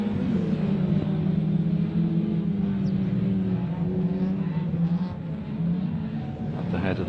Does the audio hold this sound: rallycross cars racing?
yes